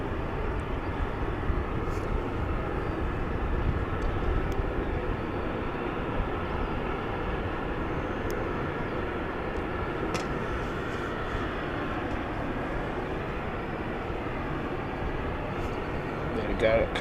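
An airliner approaches to land at London City Airport, heard as a steady broadband engine roar that holds at a distance under a clear sky, with no talk over it.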